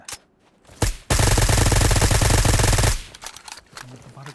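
A P90 submachine gun fires in a video game: one sustained burst of rapid automatic fire lasting nearly two seconds, loud and close, set between quieter incidental sounds.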